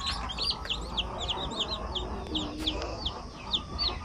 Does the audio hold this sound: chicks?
yes